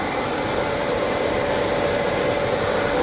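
A 1997 Dodge Grand Caravan SE, abandoned for over four years, idles with a steady close engine drone and faint tonal whine, the surging barely rising and falling over a few seconds.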